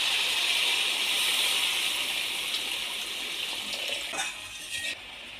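Water is poured into a pan of fish curry with sizzling masala. A continuous loud gushing splash with frying hiss runs throughout and eases slightly near the end.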